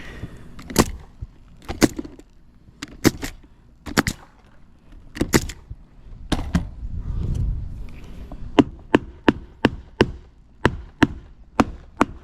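An air nailer fires into roof starter shingles on a shed, producing sharp, loud single shots spaced out, then a fast run of evenly timed bangs at the end, with some rustling and handling noise between them.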